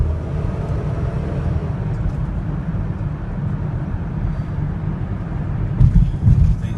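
Mercury Monterey engine idling and running smoothly during a night test drive, a steady low rumble throughout with a brief louder thump near the end.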